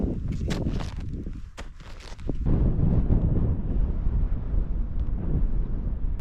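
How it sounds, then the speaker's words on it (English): Strong mountain gusts in Colorado's Grand Couloir on Mt Aetna buffet the microphone, producing heavy low rumbling that grows louder and steadier in the second half. "It's very windy today"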